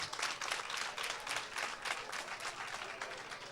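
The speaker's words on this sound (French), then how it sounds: "Je voudrais que vous vous applaudissiez," A crowd applauding at a Beninese women's day event, dense steady clapping at a fairly low level throughout the short stretch, without a break.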